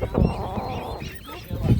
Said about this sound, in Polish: Tu patrzę, mamy kury.